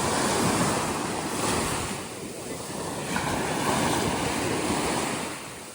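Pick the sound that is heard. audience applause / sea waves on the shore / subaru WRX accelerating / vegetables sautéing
sea waves on the shore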